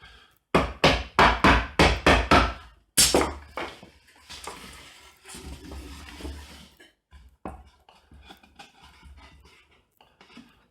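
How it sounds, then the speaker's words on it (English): Wooden parts of a National beehive box are knocked together with a hammer: a quick run of about eight sharp, close blows, then scattered lighter taps and scraping. "Bit of a hammer."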